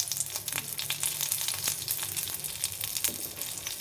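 Curry leaves and asafoetida frying in hot oil with dried red chilli and lentils for idli pulihora, steady close sizzling crackle with occasional sharp pops, no talking.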